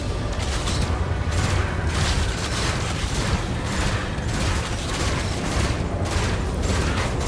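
Ship weapons firing in Elite: Dangerous, a dense barrage of repeated booming shots and rapid bursts that pound on continuously and loudly, with no talking.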